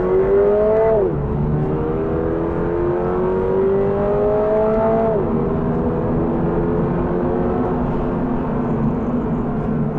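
Toyota GR86 sports car accelerating hard from inside the cabin, engine pitch climbing and dropping sharply with two quick paddle-shift upshifts, then pulling steadily in a higher gear.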